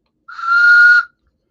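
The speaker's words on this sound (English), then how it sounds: "I never got a wood train whistle." A wooden train whistle from Mickey & Minnie's Runaway Railway blown once, a steady breathy two-tone chord held for just under a second, loud and close with no talk around it.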